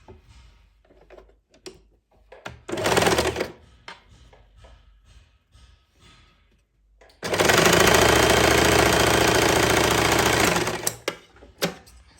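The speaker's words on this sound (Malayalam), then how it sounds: "ഈ സൈഡ് ഇങ്ങനെ ഒന്ന് മടക്കി അതായത് ജസ്റ്റ് ഒന്ന് ഇങ്ങനെ മടക്കിയിട്ട് അടിക്കുന്നുണ്ട്" A sewing machine stitches a folded fabric edge on palazzo pants, with a short burst of whirring, then a long, loud, steady run of rapid stitching, and scattered handling clicks between them.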